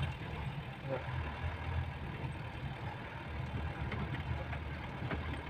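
Car driven slowly across open ground by a new driver, its engine a soft low hum close by at a steady pace, with people talking over it.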